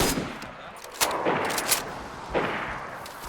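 Several sharp gunshots crack out in quick succession in the video game DayZ, spaced irregularly over a few seconds against a steady background hiss.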